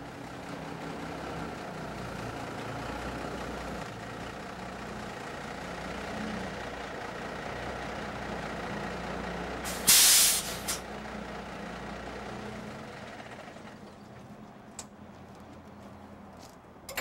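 A milk tanker truck holding up to 3,600 gallons idles with a steady low rumble, broken near the middle by a short, loud hiss of air brakes, then settles quieter.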